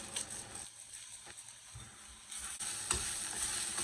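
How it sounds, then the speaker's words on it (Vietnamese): Seasoned vegan roast pork filling with a pinch of five-spice is stir-fried in a pan, a soft sizzle broken by scraping and clattering as the spatula turns it, close and fairly quiet with no talking. "Mình xào lên cho nó dậy mùi thơm vậy là được"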